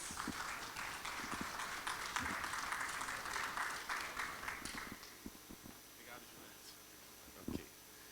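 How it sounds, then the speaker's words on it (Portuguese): Applause from the audience at a conference talk on digital inclusion for older people, a brisk spell of clapping that fades out midway, leaving a quieter room with scattered knocks and faint voices. "Uma salva de palmas"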